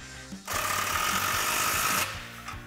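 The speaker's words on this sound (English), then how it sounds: "we can take a 15 millimeter socket to tighten down our clamp" A power ratchet with a 15 mm socket tightening an exhaust clamp on a 2016-2023 Camaro SS cat-back install: one sustained, loud, buzzing mechanical rattle lasting about a second and a half, close by.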